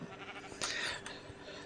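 A single short bleat comes from a pink sheep in modded Minecraft 1.7. It is faint and rises briefly over a low background hum.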